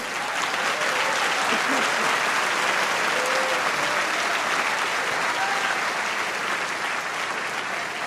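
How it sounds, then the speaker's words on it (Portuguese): Dense, continuous applause from a church congregation, loud and even throughout, with faint voices mixed into the clapping. "pode aplaudir com vontade"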